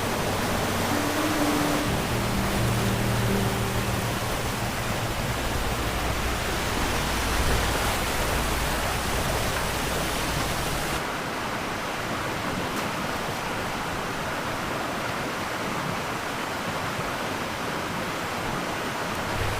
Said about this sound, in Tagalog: may dalawa tayo nakita na malakas yung bagsak ng tubig